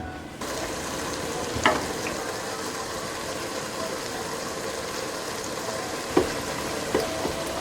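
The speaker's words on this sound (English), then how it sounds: "we're gonna go ahead and brown our hamburger and saute up our onion" Ground hamburger and onion brown and sauté in an Instant Pot, giving a steady, even sizzle with a few brief stirring scrapes and knocks.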